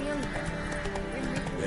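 Roach the horse in Witcher 3 trotting with a short neigh, clip-clop hooves running under continuous game speech and ambience, moderately loud.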